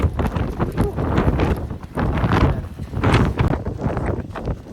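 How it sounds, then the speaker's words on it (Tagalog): Strong winter wind in Saskatoon buffeting the microphone, a constant loud roaring rumble with gusty surges and no clear voices. "naririnig nyo ako sobrang hangin"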